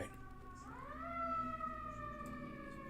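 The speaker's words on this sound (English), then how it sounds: "I hate getting all the sirens." A siren wails at moderate distance, its tone rising then holding steady, against a low hum with no talking.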